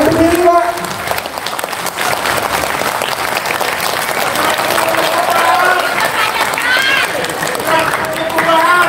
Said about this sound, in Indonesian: Tepuk tangan Pak Sauki dan seluruh jenderal yang hadir, tepuk tangan.